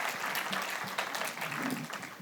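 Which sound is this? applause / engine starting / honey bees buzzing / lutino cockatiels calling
applause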